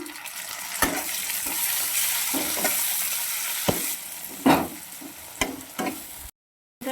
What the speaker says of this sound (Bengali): পেঁয়াজটা ভাজা হয়ে গেছে টমেটো কুচিটা দিয়ে দিলাম